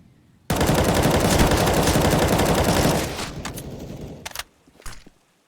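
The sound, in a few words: gunfire in the video game Counter-Strike on the map Inferno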